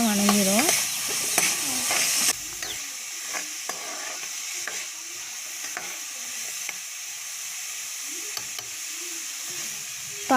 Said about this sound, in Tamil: நல்லா மிக்ஸ் பண்ணி விட்டிங்கன்னா வெங்காயம் நல்லா வணங்கிடும்.